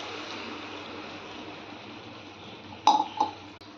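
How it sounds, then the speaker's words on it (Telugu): Water is poured into a pan of ground spice paste of poppy seeds, mustard, coriander and cumin, a low rushing pour that ends in a couple of sharp splashy bursts. "ఈ మసాలా పట్టిన దాంట్లో నీళ్ళు పోసి ఇలా పోసుకోవాలి."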